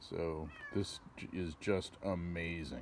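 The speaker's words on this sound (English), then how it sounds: "you can hear my cat in the background wanting some" A pet cat meows several times in the background as someone talks over it. The meows are short and plaintive, partly masked by his voice.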